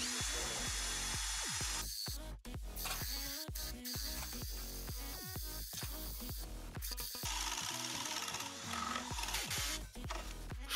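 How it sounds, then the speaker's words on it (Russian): A DEKO 20V impact driver rattles and hammers in rapid bursts, the motor surging and stalling repeatedly as it bores lengthwise into a wooden door. "Так, а если вдоль дверь просверлить, выдержит? Пробуем."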